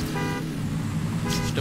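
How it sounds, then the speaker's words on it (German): Car horn in the racing game TrackMania, a steady tonal honk sounding twice in short bursts near the start and end, over a continuous low engine drone. "Hast du eine allgemeine Hupe genommen, oder was?"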